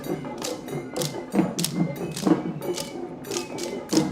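Patura wooden sticks struck in rhythm during a Kandyan folk dance at a festival procession, giving a steady series of sharp, hollow clacks and thumps mixed with drum beats and outdoor bustle.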